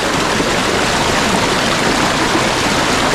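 A strong river current rushes loudly and steadily, a dense, continuous roar of flowing water close by with no break.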